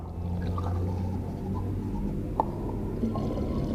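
Water tipped from a container into a garden sprayer already half filled with Sealit sealer for a 50-50 mix, giving a steady close liquid pour with a couple of small splashes and no talking.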